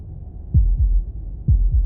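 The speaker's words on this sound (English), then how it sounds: "That was the sound of a heartbeat," A heartbeat in the video game Slay the Princess: two pairs of deep, muffled thumps in a slow lub-dub rhythm, loud and close over a low droning hum.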